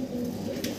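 A Mumbai breed pigeon gives one short, low, throaty coo nearby.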